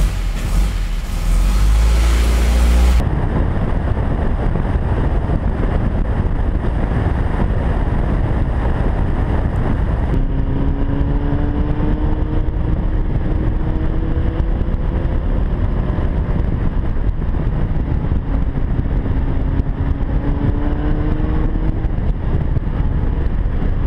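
An Alfa Romeo car drives with a steady, loud engine drone under heavy wind rush. The engine pitch rises and falls as it accelerates and shifts through gears.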